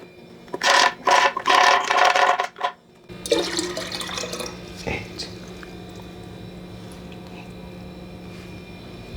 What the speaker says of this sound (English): I'm gonna blend 1 cup first and then strain it.